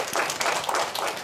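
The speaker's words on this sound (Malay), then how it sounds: "Tepuk tangan semua." A primary school class claps hands together in a brief burst of applause, moderately loud in a classroom.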